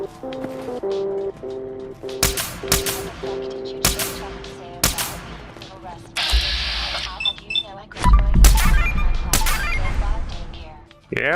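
Shooting at an underground range in Fallout 4, sharp single shots spaced irregularly, then a denser, louder cluster of blasts near the end, with a voice and radio-like background tones underneath.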